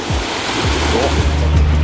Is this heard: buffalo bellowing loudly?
no